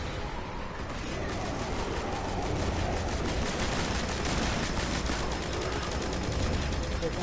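Dense, continuous automatic gunfire from Destiny: The Taken King rattles steadily at close range throughout, with no voices over it.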